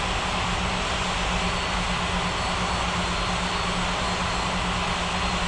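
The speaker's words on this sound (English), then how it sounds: "Ryanair 90490 requesting taxi to the gates." Airliner engine in an air traffic control video game, a steady, dense roar of jet and aircraft engine noise while taxiing, continuous and loud throughout with no pauses.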